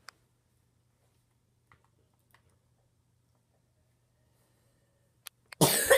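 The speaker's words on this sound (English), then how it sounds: "I do still have a cough. Pretty bad one" After several seconds of near silence, a single close, sharp cough bursts out at the very end from someone with a bad cough.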